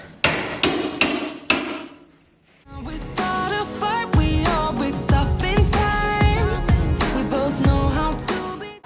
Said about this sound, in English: All right, trim is coming out.